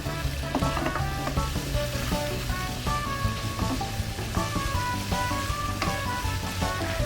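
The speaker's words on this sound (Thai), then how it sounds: "ผัดให้หมูสุกดีสักเล็กน้อยนะคะ" Pork, garlic and chili stir-frying for spicy stir-fried instant noodles, giving a steady close sizzle with light spatula scrapes and clinks throughout, no talking.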